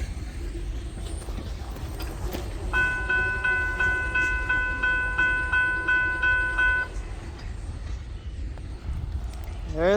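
A short Kiamichi Railroad freight train rolls past at Hayworth, Oklahoma, with a steady low rumble of wheels, a sustained multi-tone horn blast held for about four seconds mid-pass, and voices talking nearby.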